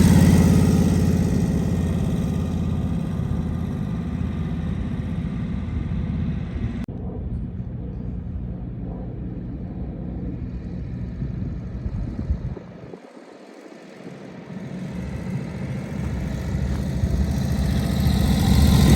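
A 1942 Harley-Davidson WLA with a flathead engine idling nearby, a steady low, rumbling throb that dips briefly before swelling again, with no talking.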